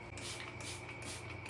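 A handheld spray bottle misting water onto hair during a two-strand-twist micro loc installation, with four or five quick hissing bursts in a steady rhythm, close and fairly quiet, with no talking.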